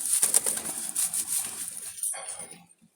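Jalali pigeons in a coop, with soft cooing and a flurry of wing flaps and shuffling close by, fading away toward the end.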